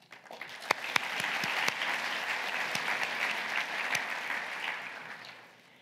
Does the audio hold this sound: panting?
no